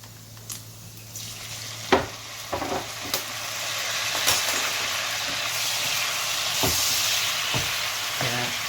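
Pork cooking without oil sizzles steadily in a pan after a spoon of fish sauce goes in, with sharp clinks and scrapes of stirring breaking through the constant close frying hiss.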